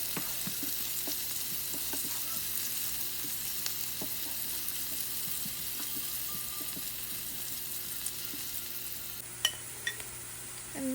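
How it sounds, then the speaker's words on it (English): Chopped onions and green chilies sauté in hot oil for a luchi-aloor dom dish, giving a steady close hiss of sizzling with occasional soft clinks and scrapes of a utensil, no voices. "Now adding some chopped onions and green chilies, chopped green chilies. Going to saute for a while"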